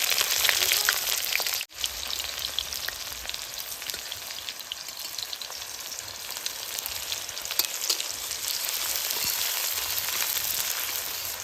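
Bay leaf and dried chili sizzle in hot oil in a pan for Bengali-style duck curry, a dense continuous crackling fry with one brief dip near the start, steady and close throughout.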